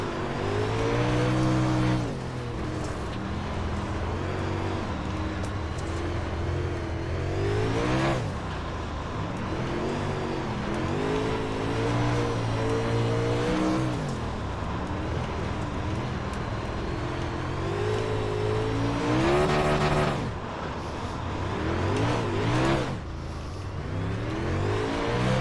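A super late model race car engine in iRacing roars steadily and close, rising and falling in pitch as it accelerates and lifts through the corners of the narrow Chili Bowl dirt track, with no voices over it.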